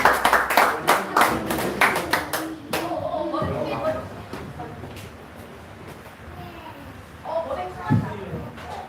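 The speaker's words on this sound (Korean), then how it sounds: "영광의 박수를 올리겠습니다" A church congregation claps in a quick, sustained burst of applause that fades out, followed by a voice speaking and some scattered sounds.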